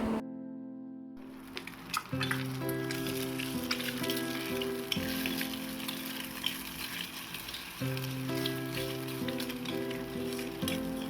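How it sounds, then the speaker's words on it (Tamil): A cracked egg is poured into hot oil for an egg stir-fry, giving a steady close sizzle and crackle throughout, while a melodic music track plays over it. "இப்போ முட்டையை உடச்சி ஊற்றிடலாம்."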